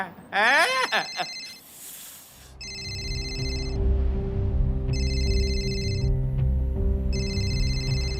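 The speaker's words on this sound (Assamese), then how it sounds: "ই হিৰ'ই কিয় ফোন ৰিচিভ কৰা নাই" A telephone rings in repeated electronic bursts, three ring cycles with pauses between, over a low background hum, after a short burst of voices and noise at the start.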